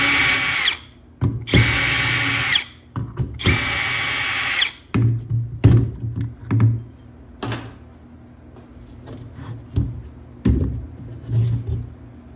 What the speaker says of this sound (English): what we're going to want to do is we're going to want to take these screws out of the back